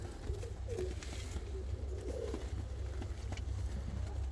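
Fancy show pigeons coo softly in a loft, several low murmuring calls layered over a steady background hum, faint and continuous with no talking.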